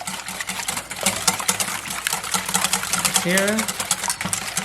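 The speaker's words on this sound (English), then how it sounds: "Now what you want to do when you're whisking this is essentially you're whipping air into the eggs." Eggs being whisked in a bowl to combine yolks and whites into a light, fluffy omelette mix, a rapid rhythmic clicking and sloshing heard close, with a person speaking briefly over it.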